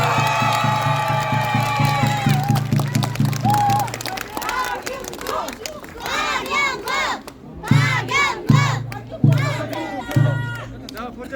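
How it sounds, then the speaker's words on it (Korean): A large crowd at an outdoor Korean election rally in Pocheon claps and shouts in unison, rhythmic chanting and cheering bursts answering an amplified speaker, loud and close. "다 같이 박수 힘차게."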